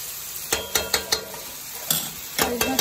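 Dhaba-style chicken curry is stir-fried (bhuna) in a pan, a steady sizzle punctuated by several quick spatula scrapes and taps against the pan in short bursts, close and moderately loud.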